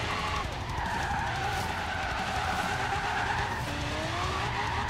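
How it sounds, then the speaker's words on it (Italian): Van tires skidding and squealing in the racing game Forza Horizon 3, a sustained loud drifting screech with wavering pitch over steady engine roar throughout. "Guardate come slitta!"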